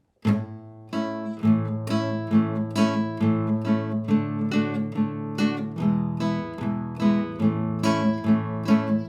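Acoustic guitar chords strummed briskly with a pick, bright repeated strokes in a steady rhythm, close and clear with no talking.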